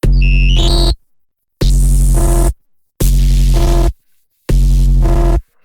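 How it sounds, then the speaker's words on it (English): Four bursts of harsh, distorted electronic noise with buzzing tones, separated by short silences, like a printer malfunctioning. "Sort of sounds like a printer going wrong."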